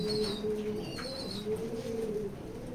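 Racer pigeons coo in a steady, throaty drone close by, the repeated low calls running almost without pause while thin chirps from other birds sound faintly in the distance.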